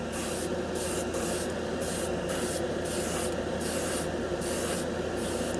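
A Harbor Freight $20 dual-action airbrush sprays paint with a steady hiss, close and continuous, broken by regular short bursts of sharper spray as the trigger is worked, with no voices.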